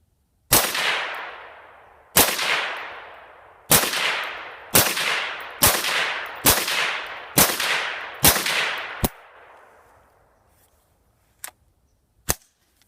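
Seven sharp gunshots from a Ruger .22 Magnum rifle fed by its factory nine-round rotary magazine, fired at a steady pace about a second apart, each with a ringing decay, followed by a few faint clicks.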